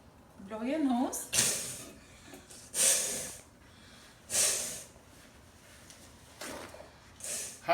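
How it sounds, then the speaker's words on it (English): Forceful nose blowing after a neti pot nasal rinse during a yoga session, four or five sharp breathy bursts at regular intervals, close and fairly loud, following a brief voice at the start. "Blow your nose."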